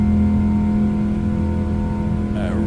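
PMDG 777 jet engines in Microsoft Flight Simulator, a loud, steady, low droning hum with constant tonal whine layered on top, continuous and unbroken throughout.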